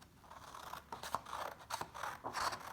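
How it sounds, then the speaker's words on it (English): A pair of scissors cuts a sheet of paper in half along a fold, giving several crisp, close snips and soft scraping strokes in quick succession, quiet and with no voices. "with a pair of scissors, we're going to cut it in half to get our first piece of paper"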